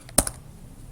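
Two quick, crisp keystrokes on a computer keyboard, close and clear, as a command is typed into a Windows command prompt, then quiet.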